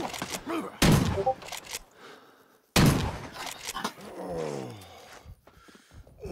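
Gunfire in an online multiplayer shooter game: two sudden loud bursts ring out close by amid voice chat and other game noise.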